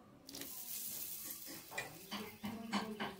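Drumstick stalks dropped into a pot of water for a poppy-seed and potato dish, giving a series of close splashy clatters and knocks against the pot, moderately loud with irregular rhythm.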